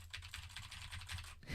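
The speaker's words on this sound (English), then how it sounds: "With my super loud mechanical keyboard." Rapid clicking keystrokes on a very loud mechanical keyboard, close and alone, in a quick, even burst that stops abruptly.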